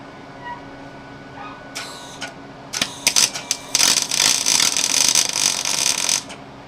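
A catalytic converter being welded on a van: a few faint clicks and taps, then a loud, close, crackling buzz of weld bursts that runs steadily for about three seconds before cutting off.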